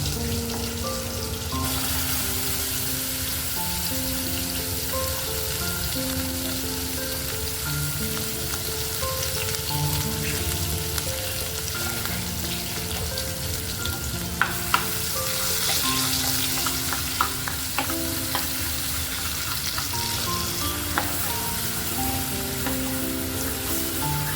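Ginger-garlic paste and a paste of roasted onion and tomato fry in oil in a kadhai for a surmai fish gravy masala. A loud, continuous sizzle with stirring runs over faint background music.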